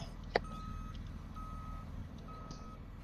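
A school bus backing up on a band show trip sounds its reversing alarm in three evenly spaced steady beeps, set against a quiet outdoor background after a brief knock.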